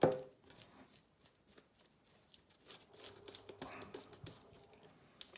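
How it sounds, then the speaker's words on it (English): Back of a knife scraping scales off a raw herring: a quiet, close run of irregular scratchy strokes and small ticks, with no voices. "This one's full of scales, so just peel them off."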